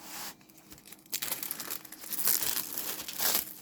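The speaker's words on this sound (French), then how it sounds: "Je vais mettre le film transparent correctement." Transparent plastic film being crinkled and smoothed over a diamond painting canvas, close crackling and rustling in bursts with soft tearing-like swishes, no talk.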